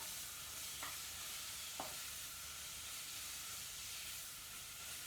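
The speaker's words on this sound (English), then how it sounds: "my leeks are sizzling." Finely cut leeks sizzling in oil in a pan, a steady soft hiss with a couple of brief clinks from stirring, close and continuous with no talking.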